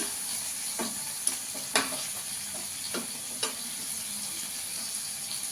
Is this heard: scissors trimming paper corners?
no